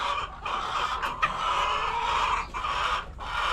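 A crowd of laying hens on a poultry farm clucks and murmurs continuously in a dense, busy chorus, fairly faint and steady with no voices over it.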